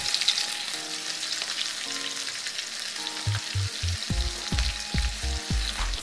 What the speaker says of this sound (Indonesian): Lalu aku lanjut menggoreng tahunya ya teman-teman.